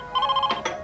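A telephone rings in a Hindi TV drama scene, a close, loud, warbling electronic trill that pulses rapidly and then cuts off into a couple of short clicks.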